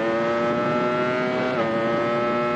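A Ducati Panigale V4 motorcycle accelerating hard, its engine holding a loud, steady, high-pitched howl with strong harmonics that climbs slightly throughout, ridden up close with no talk.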